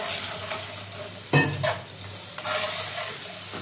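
Spice masala sautéing in a pan for a Bengali potato and fish curry, a steady close sizzle with brief stirring scrapes and clatters, no talk.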